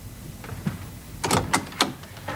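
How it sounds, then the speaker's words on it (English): Door being opened, a few quick knocking and clattering thumps with a short scraping slide, close and brief over low background hiss with no talk. "Please, open the door."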